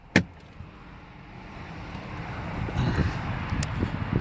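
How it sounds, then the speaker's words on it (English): A 2017 Lincoln MKX with a 3.7L V6 is switched off, then a low power motor hums as the seat and steering wheel adjust, building gradually after a sharp click. "When you shut the car off, the seat adjusts back and the steering wheel adjusts up"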